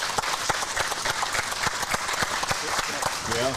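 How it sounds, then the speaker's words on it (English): An audience at a live show at Sportco claps in a steady, close round of applause, with voices mixed in over the clapping. "Give this guy a round of applause."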